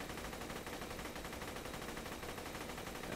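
A legendary orange assault rifle with corrosive damage, an 84-round magazine and a high fire rate fires in Borderlands 2, a rapid, unbroken stream of shots that carries on throughout.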